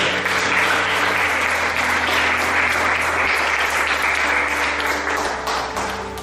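A church congregation applauding loudly for the Lord, a continuous dense roar of clapping that stays full and steady before easing slightly at the end.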